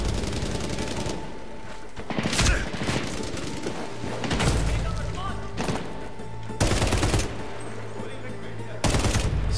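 AK-74 rifle fire in the Medal of Honor Warfighter game comes in repeated loud automatic bursts separated by short pauses, close and dominant over the battle noise.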